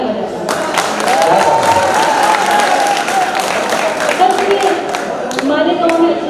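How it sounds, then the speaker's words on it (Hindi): A seated audience at a shaayri poetry recital in Malegaon breaks into sustained, dense applause and clapping, loud and steady throughout with faint voices mixed into the crowd noise. "एक बार अपने लिए तालियां बजाइए।"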